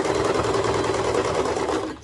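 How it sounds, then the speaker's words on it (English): A sewing machine stitching a child's raglan pajama top, a loud, close, continuous rapid mechanical whir and needle rattle that runs steadily and slows to a stop at the end. "just keep going and just make sure that you're not sewing over any needles"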